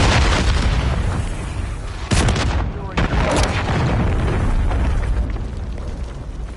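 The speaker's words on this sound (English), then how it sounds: "Friendly cruise missile approaching Charlie" Cruise missile strike in a military shooter video game, a broad rumbling blast and roar lasting several seconds, with sharper impacts near the two- and three-second marks and game voice callouts mixed in.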